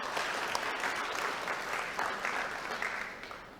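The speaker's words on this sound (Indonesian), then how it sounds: "Tepuk tangan untuk kita." Soft, distant applause from an audience at an open senate meeting of a theology college in Jayapura, a steady wash of many hands clapping that fades slightly at the end.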